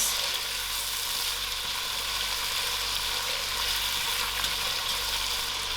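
Potatoes fry in a pan over gentle heat with a steady, continuous sizzle, an even hiss that holds without breaks and has no talk over it.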